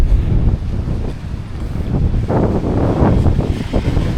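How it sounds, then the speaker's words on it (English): Strong, blustery wind by the water in Da Nang, Vietnam, buffets the microphone in a continuous low roar, with gusts swelling and easing throughout. "It is so windy."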